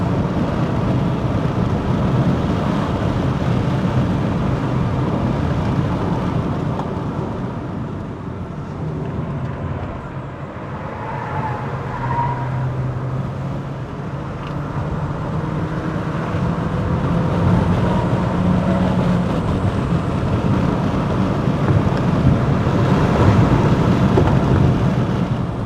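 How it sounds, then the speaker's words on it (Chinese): A 2026 Proton S70 MC1 Flagship X climbs the steep Genting road with its front wheels spinning, giving a loud, steady engine roar and tyre and wind rush throughout, with no speech. "前轮一直在打滑，扭力大，轮胎抓不住哦。"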